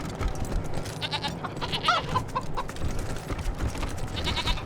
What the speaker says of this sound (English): Look at the goat, it's huge.